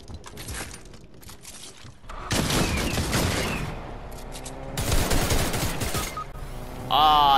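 Rapid automatic gunfire from a video game match comes in long, dense, loud bursts with short pauses between them, and a faint voice is heard near the end.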